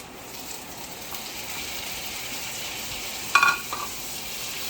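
Chopped tomatoes for kadai paneer cooking in a hot pan, with a soft, steady sizzle and frying hiss throughout and a brief clatter of stirring near the end.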